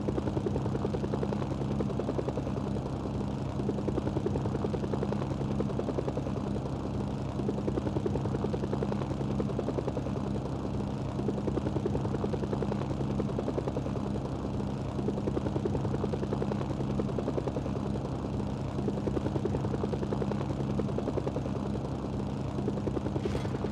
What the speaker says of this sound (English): You might be able to take a chopper from there and winch it.